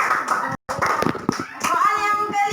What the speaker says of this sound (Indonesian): Tepuk tangan buat Alan.